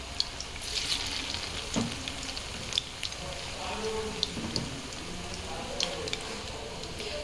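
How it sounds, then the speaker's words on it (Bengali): Chicken manchurian balls fry in hot oil with a steady, even sizzle, broken by occasional faint clinks of a utensil and soft background voices. "চলো এরম এরম করে আমি বলগুলো অনেকটা ভেজে নিই"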